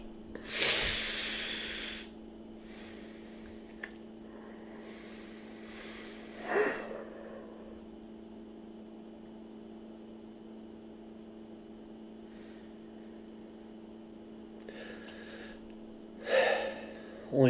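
A man's hiccups: a few sharp, gasping catches of breath spaced several seconds apart, close and fairly loud against a quiet room, with no talking.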